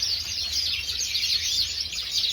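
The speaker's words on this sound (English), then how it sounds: "I can hear a lot of cocks singing" Many male parrots and other cage birds at a Parrot Society national show in Staffordshire keep up a dense, continuous high chirping and warbling that fills an indoor hall with a low hum beneath, and no one speaks.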